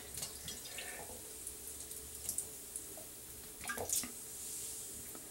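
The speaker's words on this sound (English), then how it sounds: "I'm going to take the vinegar and water mixture that I have in this glass bottle here, and I'm just going to pour it over" A vinegar and water mixture poured from a glass bottle over dreadlocks gives a soft, steady trickle and dripping. It is faint and close, with a couple of slightly louder splashes.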